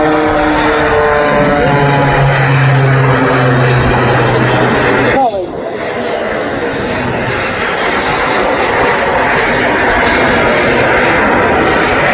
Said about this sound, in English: there are two AMT jet turbine engines additional to the piston engine that you can hear